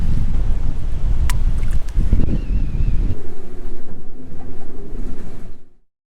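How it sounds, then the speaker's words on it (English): Strong wind buffets a sailboat at anchor, a loud continuous roar and rumble that holds steady for several seconds before fading out abruptly. "Almost 24 hours later, and we still have a lot of wind."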